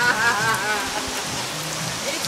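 Light rain falling outdoors, a continuous gentle patter and hiss with a faint voice-like murmur briefly showing early on.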